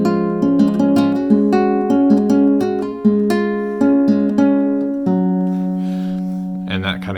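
Steady fingerpicked guitar, a rolling pattern of plucked notes and chords repeating evenly, played alone and fairly close.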